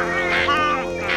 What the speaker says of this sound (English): Sounds like a bunch of stupid geese